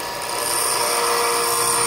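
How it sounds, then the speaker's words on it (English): A drill bit is ground on a bench grinder, giving a steady, loud, close abrasive hiss with a high whine that holds without a break. "he showed me a different way to grind drills"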